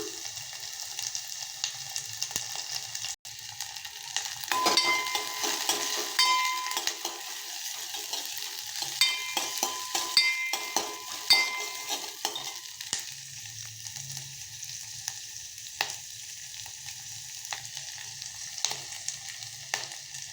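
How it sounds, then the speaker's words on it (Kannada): Onion and garlic sizzle in hot oil in a pan while being stirred, with a steady frying hiss and intermittent metallic scrapes and clinks of the spoon over about twenty seconds. "ಇವಾಗ ಈರುಳ್ಳಿ ಮತ್ತು ಬೆಳ್ಳುಳ್ಳಿ ಹಾಕ್ಕೊಳ್ತೀನಿ ಸ್ವಲ್ಪ ಚೆನ್ನಾಗಿ ಬಾಡಿಸ್ಕೊಳ್ಳೋಣ"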